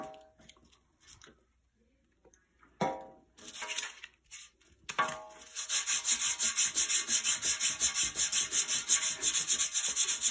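A resin bonded sharpening stone is rubbed flat on abrasive grit, working from 400 to 800 grit. A few scattered scrapes come first, then close, steady back-and-forth rubbing strokes in an even rhythm.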